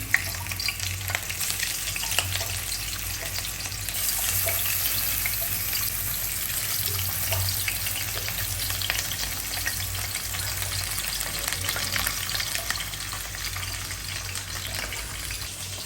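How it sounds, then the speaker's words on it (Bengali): Onions frying in hot oil in a pan give a steady, close, continuous sizzle with faint stirring scrapes throughout, no talking. "পেঁয়াজটা ভাজা হয়ে গেছে"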